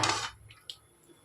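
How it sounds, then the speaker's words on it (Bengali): Pasta gets stirred in a cooking pot: a short scraping swish at the start, followed by a few faint clinks against the pot. "একটু নেড়ে দিলাম, পাস্তাটা"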